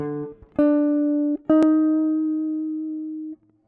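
A sustained tone chord in harmonic minor rings out, briefly cut and restruck, then holds steadily and fades gently before stopping.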